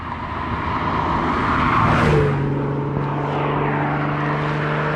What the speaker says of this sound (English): That's a Cayman. Sounds good.